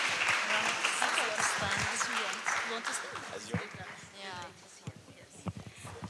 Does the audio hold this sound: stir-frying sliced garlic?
no